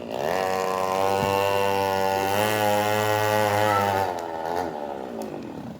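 A 50cc two-stroke engine swapped into a pocket bike runs at a loud, close, steady buzzing idle with a rising rev, then drops off and sputters near the end.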